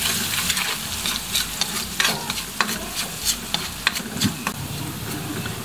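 Garlic fries in hot oil in a pan while cooking pancit canton, giving a steady crackling sizzle close up, with frequent scraping stirs and small spatters throughout and no talking.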